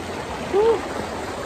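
A clear mountain stream flows in a steady, soft wash of running water, with a brief louder splash or gurgle midway through the short stretch.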